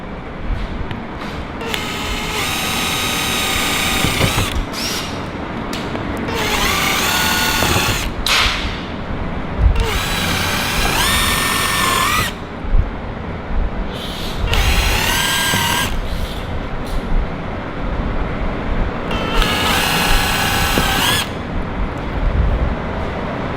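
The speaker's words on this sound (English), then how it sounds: "This is an 1/8 inch drill bit, just as a pilot hole to go through and mark or drill out" A power drill with a 1/8 inch bit whirs in several bursts of a few seconds each, drilling pilot holes for a car front splitter, separated by short pauses, close and fairly loud over a steady background hum.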